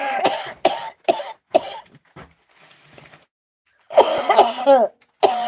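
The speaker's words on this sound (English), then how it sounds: "now I'm going to cough my lungs out for about the next half an hour" Several harsh coughs in a quick burst, then a quieter pause with faint rustling, followed by another loud run of coughing and throat-clearing, close up.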